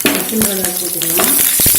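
Green chillies dropped into hot oil in a pan while cooking chilli chicken, loud steady sizzling close up, with scraping stirs and a few clanks of the spoon near the end.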